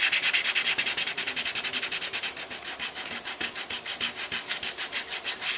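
Lacquer finish on a guitar is sanded by hand in fast, even back-and-forth strokes, a close, rhythmic, hissing rub that goes on without pause and with no voices.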